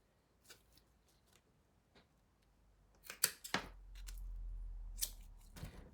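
Scissors cut through a folded elastic band during sewing, giving a few quick, close snips, first faint and scattered and then louder near the end, over a low hum.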